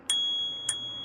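A small handlebar bell on a Mokwheel Tarmac ST e-bike is struck twice, two bright metallic dings about half a second apart, the first ringing on with a clear sustained tone.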